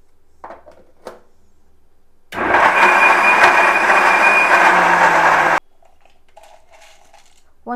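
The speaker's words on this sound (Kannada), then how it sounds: "ಫಸ್ಟ್ ಹಾಗೇ ಗ್ರೈಂಡ್ ಮಾಡ್ಕೊಳ್ಳೋಣ." A mixer grinder grinds whole spices such as cloves and pepper for a beetroot, carrot and amla detox drink, a loud steady whirring roar of about three seconds between quiet stretches, alone with no talk.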